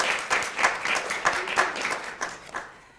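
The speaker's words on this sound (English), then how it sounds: "Let's give them a round of applause." Audience applause at a university DEI certificate ceremony, a room of people clapping in a dense patter that swells, then thins and fades out over about three seconds.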